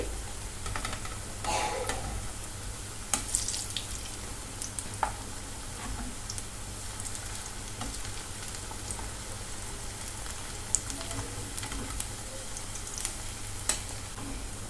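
Onion fritters (Kolkata-style peyaji) fry in oil over a medium gas flame, giving a steady, close crackling sizzle throughout with scattered small pops and occasional clicks of a utensil.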